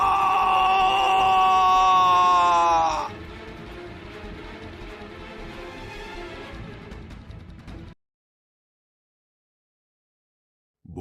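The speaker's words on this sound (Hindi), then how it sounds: "अंत में सरपंच की भी चीख सुनाई पड़ती है" A village headman's drawn-out scream rings out in a Hindi horror story, a loud wavering cry for about three seconds, then a lower groaning, eerie tail that cuts to silence.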